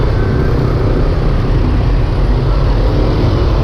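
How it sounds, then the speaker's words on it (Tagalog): Dense, steady traffic rumble from cars queuing on EDSA in Manila, a loud, continuous low drone of many idling and creeping engines without any distinct individual events. "Queuing mga sasakyan."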